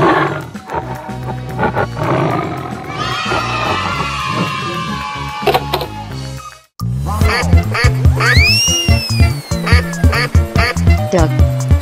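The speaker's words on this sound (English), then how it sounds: "Lion." A cartoon lion lets out a roar in a noisy animated animal scene, loud and layered over busy music and effects, followed after a brief gap by a sweeping magical swirl and more clattering sounds.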